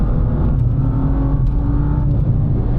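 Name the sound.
BMW M2 engine accelerating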